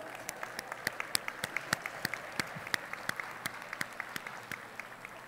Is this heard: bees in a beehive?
no